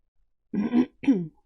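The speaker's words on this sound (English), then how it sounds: "Sorry, I keep clearing my throat and stuff" A single person clears their throat in two rough, close bursts, the second slightly shorter, with silence before and after.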